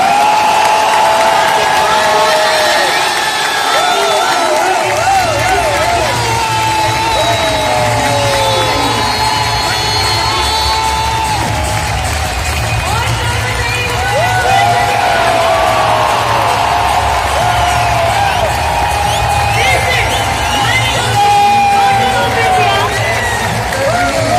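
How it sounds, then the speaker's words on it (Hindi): A large crowd at an RCM women's empowerment event cheers, whoops and applauds for Dr. Kiran Bedi on stage, a loud, sustained roar with shouting voices that continues throughout. "जब तक किरण मैम स्टेज पर है तब तक तालियों की और शोर की आवाज बंद नहीं होगी।"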